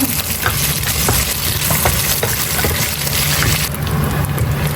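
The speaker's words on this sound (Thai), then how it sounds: "เดี๋ยวเอาทอดเม็ดมะม่วง สักหน่อยค่ะเพื่อนจะได้กรอบขึ้นอีกหน่อยนะคะ" Cashew nuts frying in hot cooking oil for a Thai chicken-cashew stir-fry, a steady loud sizzle and bubbling with occasional clicks of a utensil, no voices.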